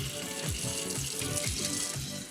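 Cold water runs from a kitchen tap during soup cooking, a steady soft hissing rush with faint rhythmic splashing pulses, heard alone without talk.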